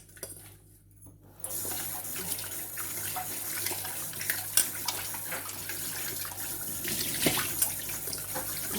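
Tap water runs steadily into a sink as ilisha fish are washed by hand, a continuous close splashing stream that starts abruptly after a quiet second and carries faint clinks of dishes.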